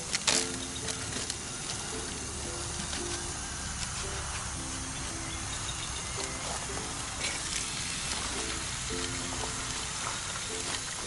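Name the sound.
chopped Italian sausage browning in hot oil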